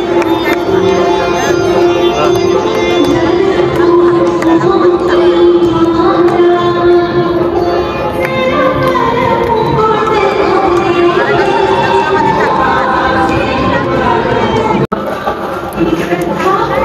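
Dense, continuous chatter of a large crowd waiting in the darshan queue at the Khatu Shyam temple, many voices close by with no pauses.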